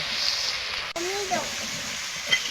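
Chopped tomato and ginger paste fry in a pan with a steady, bright sizzle, close and fairly loud, broken by a brief clatter and a short voice in the middle.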